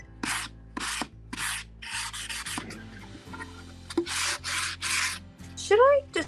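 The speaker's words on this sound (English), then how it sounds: "Should I distress this a teeny bit?" A painted wood wine rack is distressed by hand, producing several bursts of dry rubbing and scuffing strokes separated by short pauses, close and fairly loud with no talk.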